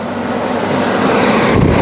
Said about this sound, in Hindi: आप इसकी हवा की आवाज़ सुन सकते हो